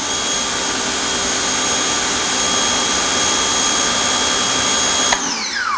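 Ryobi 1800 psi, 1.2 gpm electric pressure washer spraying through a 3.0 orifice, a loud steady hissing whine with a constant motor tone that cuts off abruptly near the end.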